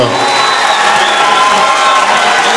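An audience at a Kimbanguiste music concert at the Institut Français in Brazzaville applauds and cheers for the ensemble, loud, dense and sustained, with crowd voices blending into the clapping.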